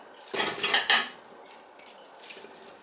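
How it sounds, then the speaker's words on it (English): Small Brussels sprouts drop into a crockpot: a quick cluster of hard clattering knocks against the ceramic pot, then a faint later rattle, close and without talk. "I'll start with the little Brussels sprouts, put all them in there."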